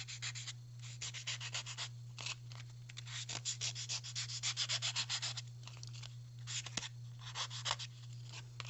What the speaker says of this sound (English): I'm also going to sand the edge so that it removes this tissue paper that overhangs.